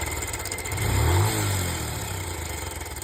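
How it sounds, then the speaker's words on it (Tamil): A Bajaj Pulsar 150 BS3 motorcycle engine running badly, heard up close as a rough, uneven mid-pitched drone with a brief rise in revs before it settles back to a ragged idle. "இதில் இன்ஜின் சவுண்டு வந்து எந்த அளவுக்கு ஒரு மோசமாக இருக்குன்னு பாருங்கள்"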